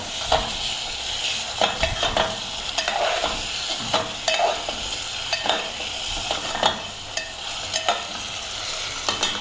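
Fish fries in a garlic tempering while being stirred, a loud continuous sizzle punctuated by frequent rhythmic scrapes and clatters of a spatula against the pan, repeating every second or so.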